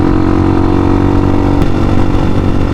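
Honda Hawk 250 motorcycle engine running close by, a steady, loud, throbbing drone that holds an even pitch throughout with no talk over it.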